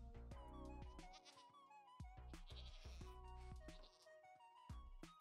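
Video game sheep bleat repeatedly in close, loud, wavering cries, several calls overlapping in quick succession with short gaps between them.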